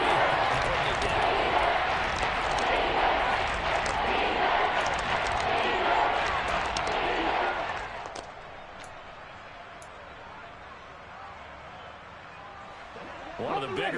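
Football stadium crowd roars loudly and steadily for about eight seconds as a big third down approaches, then drops to a quieter murmur while a commentator keeps talking over it, with the noise swelling again at the close.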